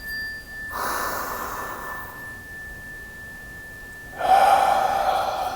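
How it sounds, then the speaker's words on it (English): A person takes a big, audible inhale during a mindfulness exercise, then a louder breathy exhale follows after a pause, close and clear over a faint steady tone. "We'll take a big inhale."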